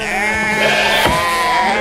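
Sheep bleating, a sustained loud wavering bleat in a film scene, with a second bleat swelling near the middle, heard alone without talk.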